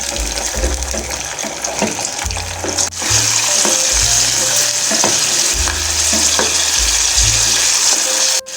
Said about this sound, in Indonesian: Jangan terlalu matang ya Bun, untuk ditumis semua bahannya.